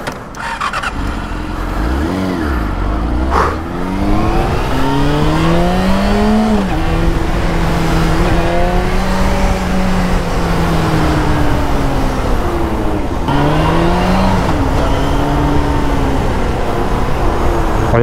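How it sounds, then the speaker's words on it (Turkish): Two motorcycles approach and pass one after another near a closed Bolu tunnel road, their engines rising and falling in pitch as they go by, loud and close. "İki tane motorcu daha yeni geliyor bak."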